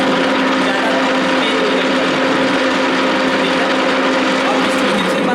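A universal milling machine switches on and runs at 185 RPM, a steady loud mechanical drone with a constant tonal hum throughout and no clear pauses.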